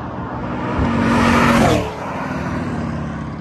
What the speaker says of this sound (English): Okay, we got a Hemi going crazy.